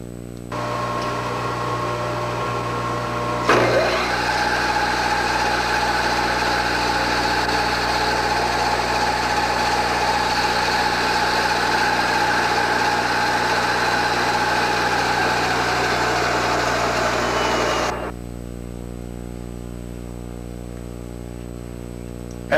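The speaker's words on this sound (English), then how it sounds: "the correct size tap drill is installed to the drill chuck and the hole is drilled" A milling machine runs a tap drill through a hole: a steady motor hum, then a louder, grinding whir of the drill cutting metal for about fourteen seconds before dropping back to the idle hum.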